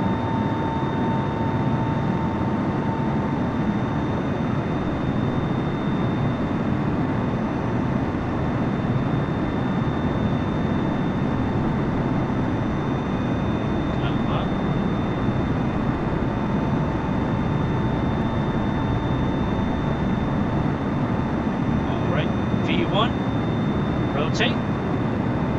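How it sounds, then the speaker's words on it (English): A KC-135 aircraft at full throttle on its takeoff run, a loud, steady, broadband engine roar that fills the whole stretch without letup. "Alright, we have liftoff, which is a really smooth takeoff."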